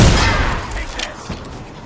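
Gunfire from a firefight in the stealth video game Dishonored, a dense burst of shots and booms up close that fades into a rumbling tail, with voices talking over it.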